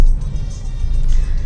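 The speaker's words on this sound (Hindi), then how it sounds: "यहाँ पे हम लोग ट्रैफिक में फंसे हुए हैं" Steady low road rumble of a congested traffic jam with cars and motorbikes, engines idling and creeping at close range, a continuous dense mass of vehicle noise without clear individual pass-bys.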